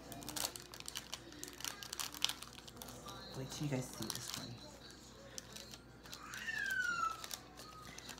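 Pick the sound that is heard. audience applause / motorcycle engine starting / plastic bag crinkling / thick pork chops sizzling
plastic bag crinkling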